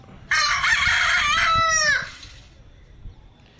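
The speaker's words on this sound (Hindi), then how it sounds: "फिर मुर्गी है जिसको सब चिकन की तरह इस्तेमाल करते हैं, मुर्गी कहते हैं और इंग्लिश में हैन कहते हैं" A single loud crow from a hen, close and clear, followed by quiet background.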